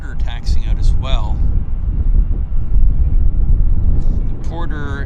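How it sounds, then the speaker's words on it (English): A Porter Embraer airliner taxis at Vancouver airport, heard as a steady low engine rumble, with a person talking over it near the start and the end. "we've got the Porter taxiing out as well"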